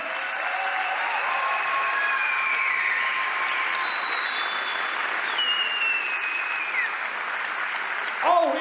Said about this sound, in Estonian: Teeme igatahes suure aplausi meie esimestele võitlejatele.